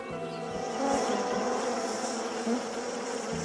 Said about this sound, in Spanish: En una colonia, las abejas exploradoras recorren un terreno y cuando encuentran las flores acertadas, informan a las demás abejas.